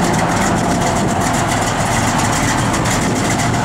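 A 1964 Chevrolet C10 pickup truck idles steadily nearby, its low engine rumble continuous and even for the whole stretch with no talk over it.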